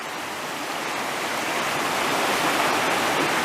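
Small waterfall on Mill Prong Creek in Shenandoah National Park, a steady close rush of falling water that holds evenly throughout with no voices.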